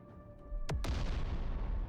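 A very large mortar fires in a video game, two sharp booms in quick succession followed by a long rumbling decay, loud and close over a faint background hum.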